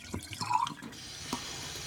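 Water runs from a tap into a sink, a soft close trickle with gurgling and a few drips, steady and quiet throughout.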